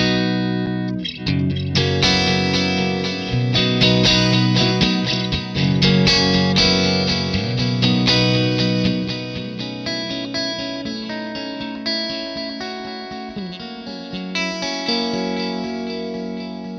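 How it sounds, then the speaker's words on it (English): An electric guitar plays through an MXR Joshua pedal set to a basic digital delay, loud and close, with ringing chords and notes trailing into echoing repeats and no talk. "Let's just start off real simple with a basic digital delay"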